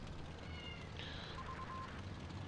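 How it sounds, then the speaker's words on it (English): A cat meows faintly a few times in the distance, wanting to be let outside, thin drawn-out cries over a steady background hum. "I'm not sure how much you can hear my cat screaming to get outside"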